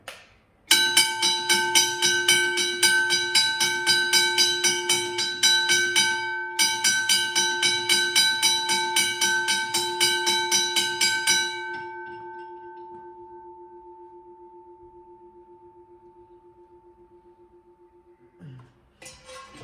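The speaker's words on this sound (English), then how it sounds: "Now I'm going to be ringing the cast iron bell." A cast iron McKenzie & Holland teardrop railway bell rings rapidly and loudly in a steady, fast stroke pattern for about eleven seconds, then its tone slowly decays into silence.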